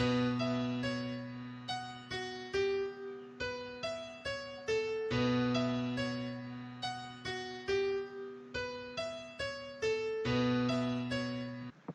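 Solo piano playing a slow melody of separate struck notes over sustained low tones, clear and close, with a steady rhythm.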